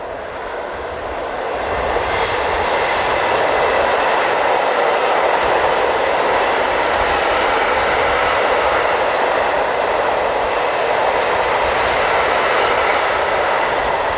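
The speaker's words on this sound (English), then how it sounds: "Class 185 number 185283 is seen on this tank train from Hanover to" A DB Class 185 electric locomotive hauls a tank train from Hanover to Ingolstadt, a loud steady rumbling roar of wheels and wagons that builds over the first seconds and then holds constant as it passes close by.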